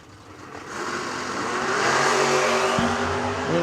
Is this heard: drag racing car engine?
yes